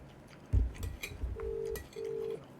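A phone gives two short electronic tones for an incoming call, each lasting about half a second, over faint background rustle and a few thumps from handling.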